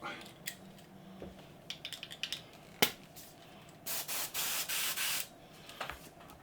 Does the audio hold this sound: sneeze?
no